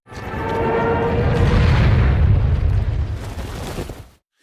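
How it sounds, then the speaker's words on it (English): Loud, continuous rumbling explosions of bombs striking a beach shoreline roar for about four seconds, deep booms blending together before cutting off abruptly. "Bombs begin to fall. The soldiers throw themselves flat on the sand as explosions rip through the shoreline."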